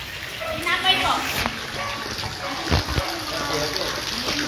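Floodwater on a flooded street in Cabanatuan City splashes and sloshes at close range, with a few sharper splashes among the steady watery churn while people talk nearby.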